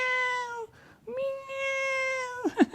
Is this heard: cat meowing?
yes